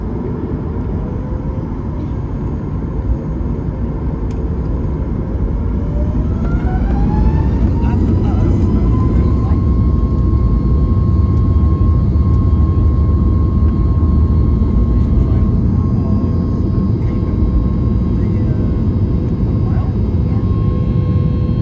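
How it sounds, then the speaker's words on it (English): An airliner jet taking off from Toronto on runway 23, heard from inside the cabin as a loud, steady engine roar whose whine rises in pitch partway through and then holds as a sustained drone. "Here's the departure from Toronto off of runway 23."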